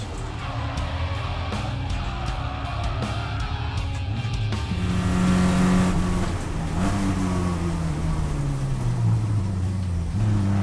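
Porsche 944 race cars at Sandown Raceway roar past during a race, engines revving and shifting with rising and falling pitch, loud and continuous, with several cars blending together.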